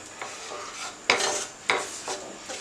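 Rice bran powder dry roasted in a pan on low heat, a spoon scraping and clinking against the metal in a few distinct strokes, close by, with a faint hiss underneath.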